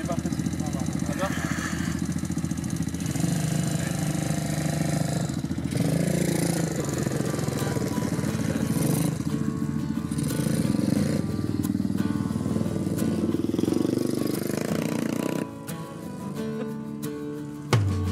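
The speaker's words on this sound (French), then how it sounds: "quand tu accélères et que tu relâches, le moteur s'arrête et automatiquement la moto ralentit" A pit bike's small motorcycle engine buzzes steadily nearby, climbing as the throttle opens and sagging as it is released, with people talking over the running motor.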